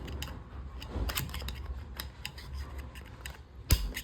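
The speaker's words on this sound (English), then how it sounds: "push it on there. Make sure it'll click." Metal snap ring pushed onto a bearing housing of a GSX rear roller assembly with a flathead screwdriver: light scraping and ticking, then one sharp, close click near the end, with no speech.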